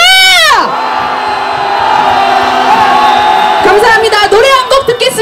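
A street protest march erupts in a loud, sustained roar of cheering, whooping and shouting from a large crowd, with a swell of voices and whistles building again near the end.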